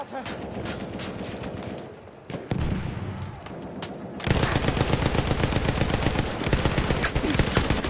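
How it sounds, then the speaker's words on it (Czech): Rapid automatic gunfire in a video game, dense bursts that grow heavier and nearly continuous in the second half, loud and close, with someone talking over the shooting. "odkaď tady po mně kdo střílí?"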